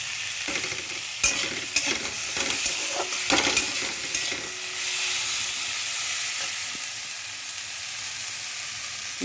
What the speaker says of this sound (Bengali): নুন হলুদ দিয়ে একটুখানি বেশ কষিয়ে দিয়েছি